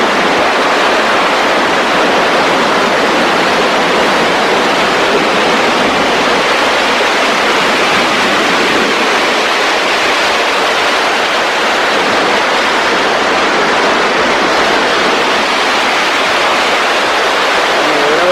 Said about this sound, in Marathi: सुंदर असा धबधबा दिसतो आपल्याला